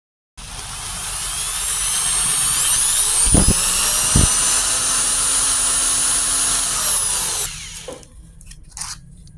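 Electric drill spinning an electric fan motor armature for sanding, a loud steady whine close by for about seven seconds that winds down and stops, with a couple of faint knocks after.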